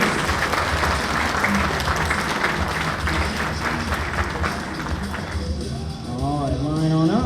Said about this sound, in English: Let's give one more big round of applause for all of our candidates in first and second degree black belt